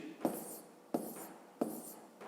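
Numbers being written by hand for a school maths exercise, with three distinct pen or chalk strokes at an even rhythm, each a sharp tap followed by a short scratch, heard alone and fairly faint.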